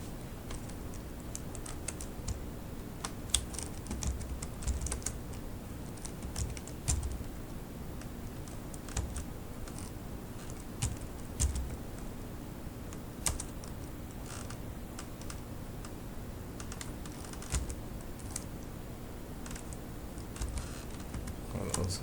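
Computer keyboard typing a chmod command in Kali Linux, a steady run of close, fairly quiet key clicks with uneven rhythm lasting throughout.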